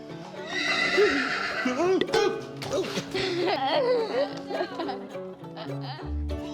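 A horse whinnies repeatedly in rising and falling squeals, close and fairly loud, with some low snorting toward the end.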